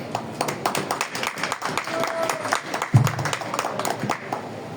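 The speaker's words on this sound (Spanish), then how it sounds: "por favor, regálenme un aplauso." A seated audience at a cultural talk in Jalisco gives a scattered round of applause, individual claps distinct and uneven at moderate loudness, with a brief thump near the middle.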